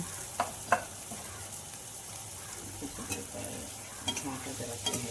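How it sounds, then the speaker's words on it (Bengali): Teler pitha dough of flour dropped into hot oil, bubbling and sizzling in a steady hiss with a few sharp pops and spoon clicks, moderately close and no talking. "আরও 1 কাপ আটা গরম তেলের মধ্যে দিয়ে দিলাম।"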